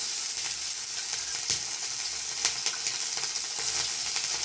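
Ginger paste sizzles as it hits hot oil where dried chilli and bay leaf are already frying, a steady close crackle with brief spits and pops throughout, no voices.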